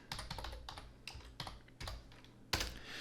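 Close keystrokes on a computer keyboard come in quick, uneven bursts and pauses, with a sharper clack near the end, quiet and with no talking.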